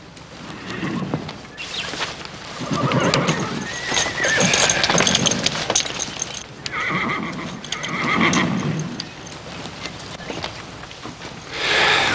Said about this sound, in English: Charlie, slap a saddle on this black horse.